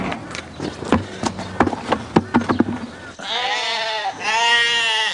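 Sheep on an Australian farm let out a couple of loud, wavering bleats close by, following a stretch of rustling and knocking sounds.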